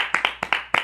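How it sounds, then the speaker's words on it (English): A few sharp hand claps ring out in a quick, uneven burst, close and distinct, like the start of a studio audience's round of applause on a talk show. "Everybody, let's give a warm round of applause for Martin Luther King."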